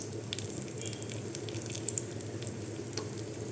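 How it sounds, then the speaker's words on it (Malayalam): Cashews and raisins frying in ghee, a steady close sizzle with light bubbling crackle and a couple of faint metallic clinks, no voices. "ഒന്ന് നെയ്യിൽ ഫ്രൈ ചെയ്തെടുക്കാം കേട്ടോ"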